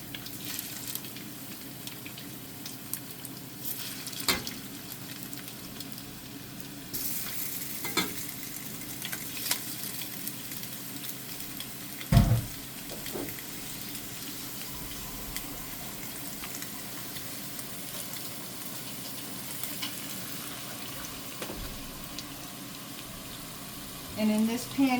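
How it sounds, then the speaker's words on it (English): Italian sausage browns with garlic in a pan, giving a steady, moderate sizzle throughout, with occasional stirring scrapes and a few clinks. "we're going to put our Italian sausage right in here. Going to let this brown up real nice in here."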